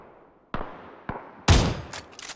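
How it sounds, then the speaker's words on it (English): Gunfire in the battle royale game PUBG during a custom match: two sharp separate shots, then a louder blast followed by a quick burst of rattling fire. "Are we going to get headshot from Rags from range?"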